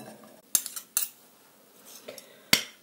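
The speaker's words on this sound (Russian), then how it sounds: "опять перемешиваю" A spoon stirs a cabbage patty mixture with sour cream in a bowl, giving a few sharp clinks and soft scrapes separated by quiet pauses, with no talking.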